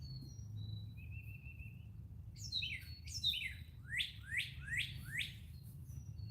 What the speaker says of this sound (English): that's the cardinal making that noise